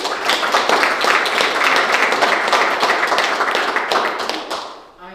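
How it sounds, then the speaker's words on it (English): A school board meeting audience breaks into steady, loud applause, many hands clapping close together for several seconds before tapering off. "So I think they're due a round of applause."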